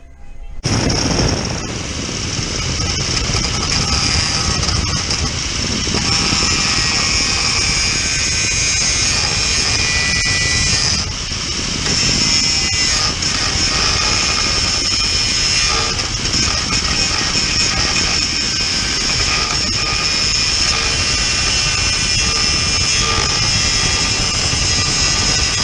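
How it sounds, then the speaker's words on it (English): Angle grinder disc wiping across a weld on a Classic Mini A pillar, a continuous loud high-pitched grinding whine with gritty scraping, holding steady for the whole stretch with one short dip in the middle. "just wiping the disc across the weld face,"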